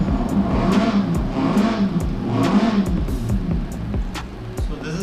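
A 1983 Volvo 242 Turbo engine in Forza Horizon 4 revs loudly and steadily, rising and falling in repeated pulls with a constant mechanical drone and no talk.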